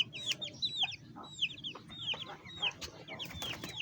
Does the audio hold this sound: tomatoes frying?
no